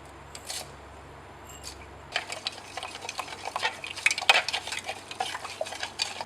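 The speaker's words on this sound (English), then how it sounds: "We'll add this to the mixture and stir in order to get as much into solution as possible." Sodium chloride salt being stirred into a chemical mixture, heard as close, continuous scraping and light clinking that starts after a short quiet spell and carries on alone without speech.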